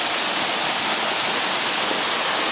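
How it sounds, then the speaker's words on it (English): Waterfall with a small stream flowing from it beside a cliff among large boulders, a loud, steady broadband rushing roar of falling and running water throughout, with no voices. "here's what is I guess a little stream that comes from the waterfall, which is behind me"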